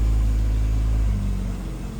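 A Daewoo Lanos engine running just after starting, following oil, filter and gearbox work, a loud steady low rumble close to the microphone that eases slightly partway through with no talk over it.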